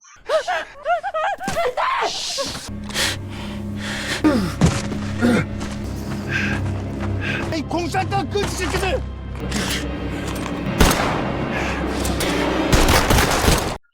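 Bursts of gunfire crack amid tense action in a North Korean spy film, with gasps, thuds and a low droning score, repeated shots clustering near the end.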